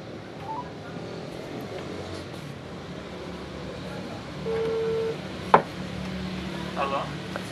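Telephone number being dialed as a short run of keypad tones over a steady background hum, followed by a brief click, with a few more faint beeps near the end; no one speaks.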